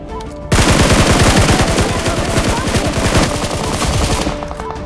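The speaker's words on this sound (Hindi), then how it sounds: "तभी मैं इन लोग पे फायर लेना स्टार्ट कर देता हूँ।" Rapid automatic gunfire from a BGMI match, sustained loud bursts of fast repeated shots that fill nearly the whole stretch after a brief quieter start.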